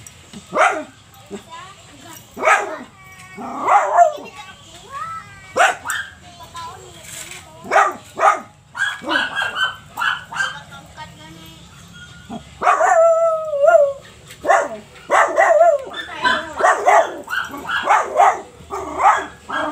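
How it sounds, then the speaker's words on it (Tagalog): Several dogs bark repeatedly in bursts nearby in a backyard, with yips mixed in, while a person talks over and between the barking. "Ingay talaga ng mga aso pag may tao dito."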